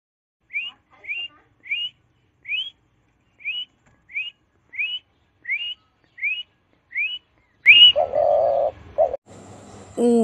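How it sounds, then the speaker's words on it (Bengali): A dove calls from a tree in nine short, evenly spaced, clear coos, followed by a brief burst of other sounds at the end. "ঘুঘু পাখি ডাকছে গাছে।"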